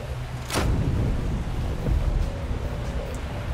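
Water gushes out in a steady, rushing broadband wash after a lever is pulled in the Minecraft Story Mode game, with a brief sharp burst near the start and a second surge about two seconds in.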